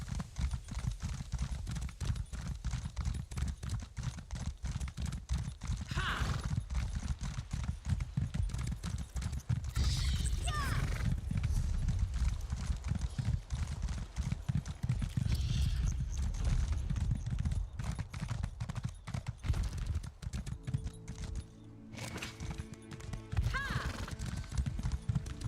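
Horse hooves clip-clop steadily in The Elder Scrolls Online's Morrowind expansion, a white horse trotting in a continuous rhythm under game music, with a brief whinny and a quieter stretch near the end.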